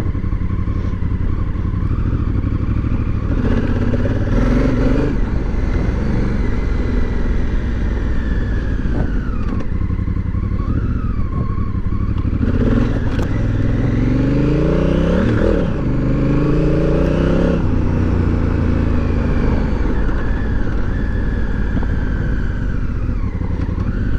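A Honda CRF1000L Africa Twin motorcycle engine revs and labors continuously over rough off-road ground, rising and falling in pitch, loud and close, with clattering and no talking.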